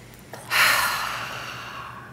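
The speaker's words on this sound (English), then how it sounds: "So let's take a breath together." A group of people taking a deep breath together during a public speaking session, one long, airy exhale that swells and then slowly fades over about two seconds, with no talking.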